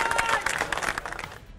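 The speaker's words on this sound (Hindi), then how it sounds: "शहरियों ने तालियां भी बजाईं" A short burst of crowd applause, dense clapping that thins out and fades within a couple of seconds.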